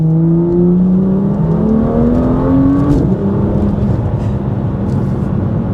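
A BMW M2 LCI sports car engine with a Stage 2+ tune revs high and then drops, with a quick throttle blip on the downshift, loud and close.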